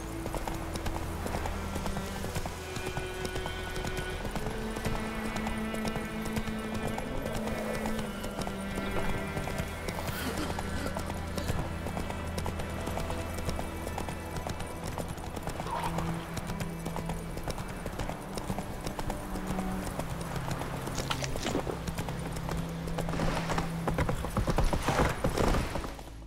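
Rhythmic clip-clop of horse hooves trotting steadily over a mechanical, game-like background hum, with a brief whinny, in the video game The Witcher 3.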